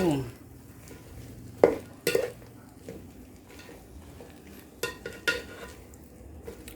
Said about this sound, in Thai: ผัดให้สุกครับผม